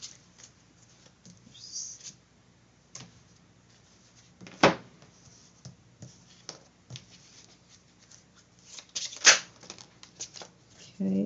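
Slippery tarot cards being shuffled by hand up close, with soft riffling and a couple of sharper snaps, faint and intermittent.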